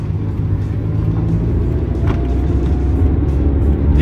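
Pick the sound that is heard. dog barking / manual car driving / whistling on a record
manual car driving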